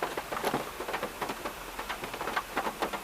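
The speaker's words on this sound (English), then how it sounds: "The rain is so loud" Heavy rain hammers down in a dense, continuous patter with scattered louder drops, steady and enveloping throughout, with no voices present.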